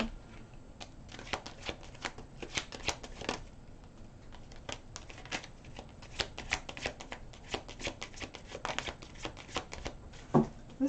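A deck of tarot cards is shuffled close up, a run of sharp, crisp riffling bursts and card snaps in irregular rhythm, fairly soft against a quiet room with no talk.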